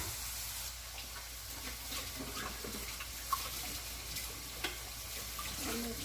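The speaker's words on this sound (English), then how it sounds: "Wash my hands." Water runs steadily from a kitchen tap as hands are washed beneath it, a constant moderate splashing hiss with a couple of small knocks.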